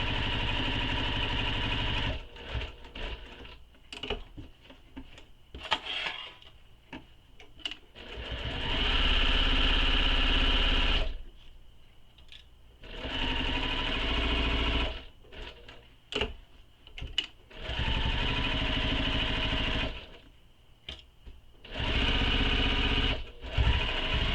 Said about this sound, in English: Make sure you really backstitch at start and stop, because that's a high stress area.